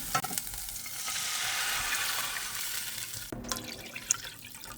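Water hits a hot frying pan with taro and shrimp, bursting into a loud, hissing sizzle that rises and holds, then cuts abruptly to quieter bubbling with a few clinks and stirring sounds nearby.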